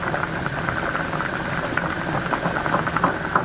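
Corned beef macaroni soup boils in a pot, a close, steady bubbling and popping that continues evenly throughout.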